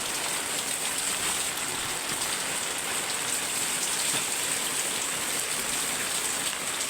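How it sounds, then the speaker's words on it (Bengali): Steady rain falls on a home garden with potted plants, a dense continuous hiss of drops striking surfaces, loud and even throughout with no voices. "চারিদিকে অবস্থা দেখো জল তো পড়েই যাচ্ছে"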